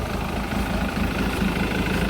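A Jaguar X-Type 2.0 diesel engine idles steadily with a low, even rumble and a slight uneven pulse from one injector, heard close up and alone.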